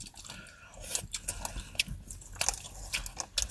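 Bites and chewing of naengmyeon cold noodles and jokbal pork trotters at close range, with irregular crunchy and squishy mouth sounds in quick succession and no talk.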